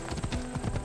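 Horse hooves in the video game Assassin's Creed Odyssey, a quick rhythmic clip-clop of a galloping horse, close and steady over a low droning game background.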